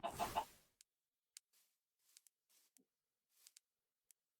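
A chicken clucking in Minecraft with the Stoneblock 3 modpack, a short burst of close clucks followed by faint scattered ticks and soft sounds over near silence, no talking.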